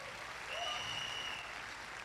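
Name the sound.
audience applause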